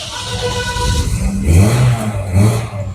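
A Toyota Premio engine runs close by and is revved up in a couple of rising surges that then settle back toward idle.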